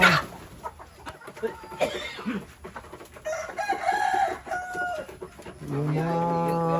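Chickens and a rooster in a backyard flock at dusk, clucking and calling in bursts, close and fairly loud, with a sustained harmonic crow-like call near the end.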